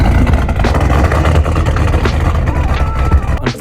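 A Ford Mustang S197 engine idles loudly and close up, a rough, throbbing low rumble with small revving swells.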